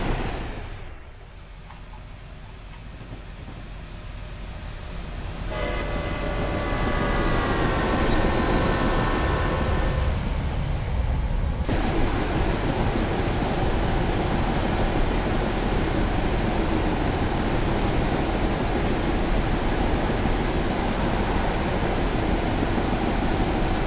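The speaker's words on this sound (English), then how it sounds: "This is the GTEL gas turbine." Union Pacific GTEL gas turbine locomotive running by on Sherman Hill in Train Simulator, a turbine whine that builds from a quiet start into a loud, sustained roar with rising tonal squeals partway through.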